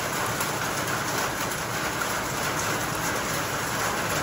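Heavy rain pours in a steady, dense roar with no letup, loud and close, filling the whole stretch without any voices.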